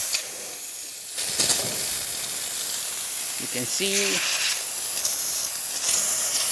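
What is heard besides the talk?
steam from Rancilio Silvia espresso machine boiler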